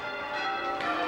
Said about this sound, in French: à la cathédrale anglicane de Québec, ces sonneurs de carillons perpétuent une très vieille tradition